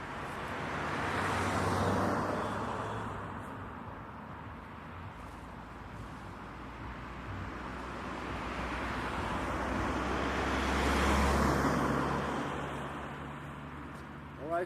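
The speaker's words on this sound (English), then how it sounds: "I'm sorry for the future cars passing by" Cars passing on a mountain road in the Rhodope Mountains of Bulgaria, distant traffic swelling and fading in two broad passes over outdoor background noise, with wind-like rumble.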